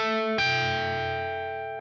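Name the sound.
electric guitar through Mesa amp, no effects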